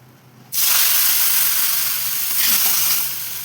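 Hot tempering poured into tomato dal off the stove sets off a sudden loud hissing sizzle that holds steady for a few seconds, swells briefly and then eases, with no one speaking.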